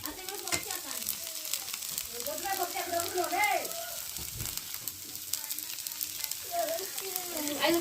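Rava dosa fries on a hot pan with a soft, continuous sizzle while someone talks over it.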